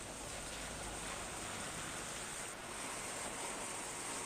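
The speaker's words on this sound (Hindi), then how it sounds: "झमाझम बारिश हो रही है।" Heavy rain pours during Cyclone Tauktae in Madhya Pradesh and Chhattisgarh, a steady, dense hiss of falling water with no breaks, heard from a distance and fairly faint.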